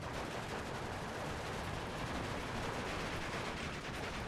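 A dense, continuous crackle of machine gun and rifle fire rolls through a town battle in the Steel Division 2 video game, steady and fairly faint throughout with no talking.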